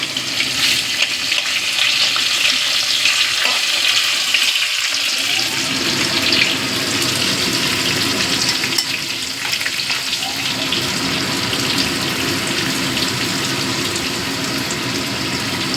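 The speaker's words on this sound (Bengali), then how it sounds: "একটু ঢাকা দিয়ে ভাজবি কেননা গায়ে ছিটকে আসছে তো" Prawns frying in hot oil make a loud, continuous hissing sizzle with crackling spatters, steady and close, with no talking.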